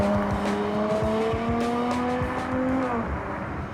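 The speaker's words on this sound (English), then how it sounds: "why would you not want to hear the screaming V12 everywhere you go?" A Ferrari front-engine V12 screams at high revs, a loud steady wail with rising harmonics held for several seconds before easing off near the end, with no talking.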